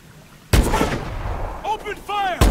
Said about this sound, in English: Open fire when we're in position, Alona.